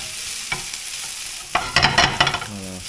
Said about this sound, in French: Donc voilà, tu remues bien dans tous les sens, tu fais caraméliser.